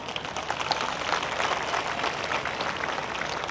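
Audience applause at the Isha Gramotsavam village sports festival, a dense, steady patter of many hands clapping at once, moderately loud and continuing evenly without any voices.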